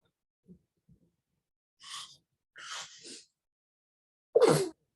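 A short sharp sneeze bursts out after a few soft breaths and quiet vocal sounds, close and fairly loud against silence.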